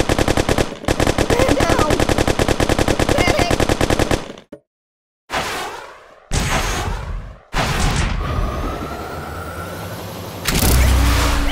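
Rapid machine-gun bursts rattle loud and close at a shooting range in Kick the Buddy, a dense continuous stream for several seconds, then a short silence followed by heavier separate blasts and a final deep boom.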